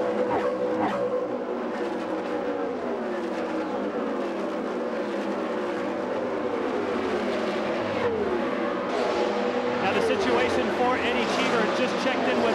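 An Indy car engine at the 1999 Indianapolis 500, heard onboard with Cheever as he turns into turn three, drones steadily and loudly with rising and falling pitch throughout, while a commentator talks over it.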